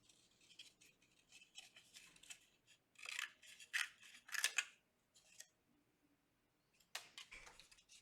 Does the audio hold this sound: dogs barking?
no